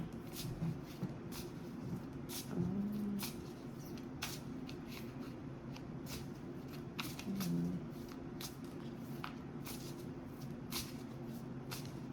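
Oracle cards are shuffled by hand in a quiet room, a series of crisp, papery riffles and slaps repeating at irregular intervals, close and fairly soft with no talking.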